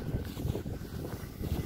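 Outdoor wind buffets a microphone on a hot, windy day, producing low rumbling gusts and muffled thumps that swell and fade across the short stretch.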